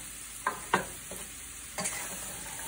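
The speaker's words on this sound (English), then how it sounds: "stir it around to coat all of the vegetables with the spice and oil mixture" Butternut squash and carrots stirred in spiced oil in a pot, with a steady soft sizzle and a few scraping strokes of the spoon close by, and no talk.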